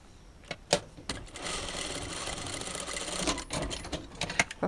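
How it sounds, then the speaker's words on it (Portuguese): A sewing machine runs in bursts, joining pieces of fabric, with a steady mechanical whir broken by sharper clicks and knocks from close by. "Agora, eu vou passar uma costurinha aqui, ó, pra unir esses tecidos aqui"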